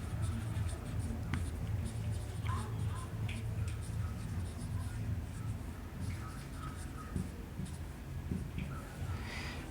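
Pen or pencil writing and drawing on paper during a maths lesson, steady soft scratching strokes close to the mic, with low hum underneath and no clear talk.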